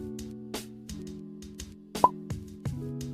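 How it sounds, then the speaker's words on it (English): Bubble sound effects from the InShot video editor pop repeatedly over a steady sustained background tone, about six short bright plops spread across a few seconds. "I use the bubble effect, which is already on InShot"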